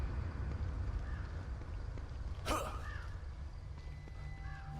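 A few crow caws ring out over a low windy rumble, with one sharp whooshing burst in the middle, in the video game The Evil Within 2.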